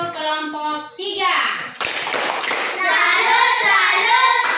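A class of fourth-grade children claps in applause for a classmate group, a brisk burst of many hands clapping together after a teacher's spoken lines, with children's voices chanting over it.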